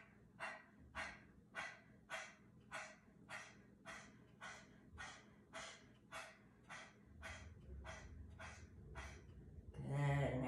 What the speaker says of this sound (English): And taking the Kapalabhati breathing if you choose.